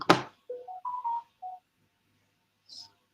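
A phone gives a short run of electronic beeps at shifting pitches, then falls silent before one last high chirp, close and clear.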